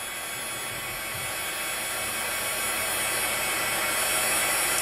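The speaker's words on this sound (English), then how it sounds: "my heat gun because we're gonna dry this really fast" A heat gun blows steadily while drying a handmade craft flower, giving a constant airy roar that grows slightly louder over a few seconds, with no talking.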